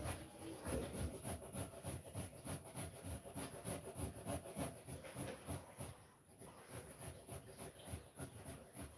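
A hand grater rasping over food in a kitchen while baking a Jamaican Easter bun, a faint, rhythmic back-and-forth scraping repeated in quick strokes with a brief pause near the end.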